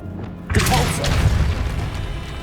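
Depulso spell cast in Hogwarts Legacy, a loud booming blast that hits suddenly after a short quiet start and rolls on with a rumbling tail.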